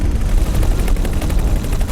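An explosion during space combat in the video game X4: Foundations, a dense, continuous roar of crackling blasts and rumble, loud and sustained without a break.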